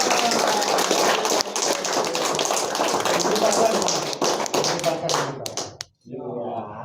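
Applause at a Buddhayana inauguration ceremony, a dense, loud wash of many hands clapping for several seconds before it cuts off, followed by a voice.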